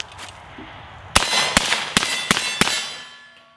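A rifle fitted with a PBS-1 Wolverine suppressor fires five sharp, muffled shots in an uneven rhythm, each a quick metallic crack with a short ring, heard fairly close outdoors.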